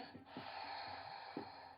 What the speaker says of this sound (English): Ujjayi breath. Breathing in.